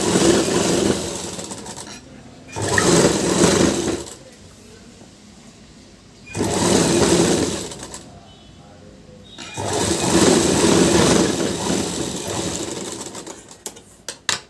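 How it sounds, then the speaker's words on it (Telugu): A sewing machine stitching a blouse hem runs in three bursts of rapid mechanical whirring separated by quiet pauses, close and loud, with a few short clicks at the end. "ఇక్కడ మనకి హెమ్మింగ్ చేసుకోవడానికి ఇక్కడ ఇలా ఒక స్టిచ్ వేసుకోండి"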